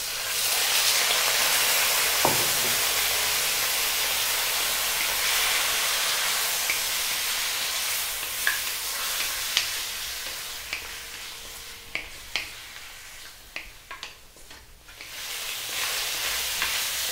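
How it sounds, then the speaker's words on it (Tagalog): Pork spare ribs sauté in hot cooking oil with a steady, close sizzle, and sharper clacks and pops from stirring come in toward the end. "gigisayin ko yung ating spare ribs ng mga 5 minutes"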